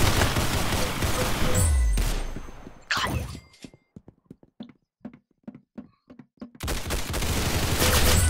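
Gunshots from the Roblox game Arsenal: a loud dense stretch of firing, then a quieter run of about a dozen sharp separate shots, before heavy continuous fire resumes.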